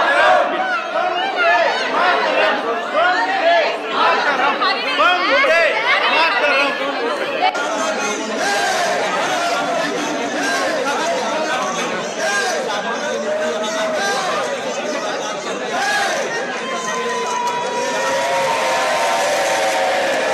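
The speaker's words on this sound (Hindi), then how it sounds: "मोदी मोदी के नारे लगने लगे" Crowd at PM Modi's welcome in Japan chanting his name, loud overlapping voices and cheering in a dense, continuous din that swells toward the end.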